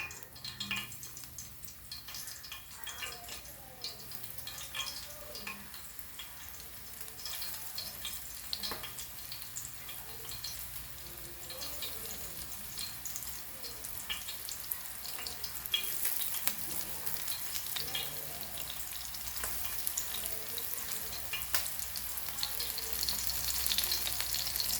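Goan rock crab claws coated in breadcrumbs frying in hot oil over a medium flame: a steady crackling sizzle that carries throughout, close and moderately quiet, with scattered pops and occasional clinks of stirring or handling.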